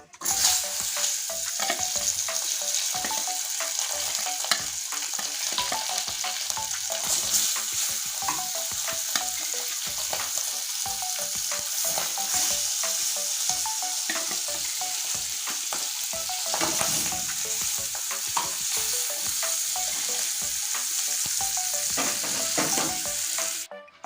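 Boal fish heads fry in hot oil with a steady, dense sizzle and crackle that runs unbroken throughout, stirred now and then, loud and close with no talking.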